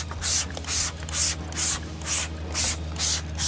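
Tire cleaner is sprayed onto a car tire during a hybrid detailing wash: about eight short, hissing spray bursts in a steady rhythm, close and clear, with no talking.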